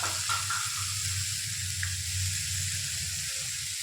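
Tomatoes sautéed with rock salt in a pan make a steady, fairly close sizzle, with a low hum underneath and a few faint stirring scrapes.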